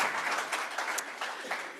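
Brief round of applause from an audience at a high-speed rail operations session, a modest scattering of claps at moderate distance lasting under two seconds.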